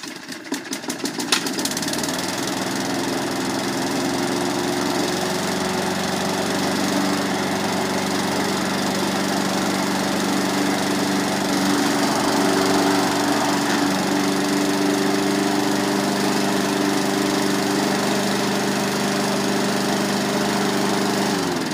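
A 14-year-old Briggs & Stratton 3.5 hp Sprint 22-inch self-propelled push lawn mower with variable engine speed starts cold after a short pull, then runs with a steady, loud, close engine drone with no talk.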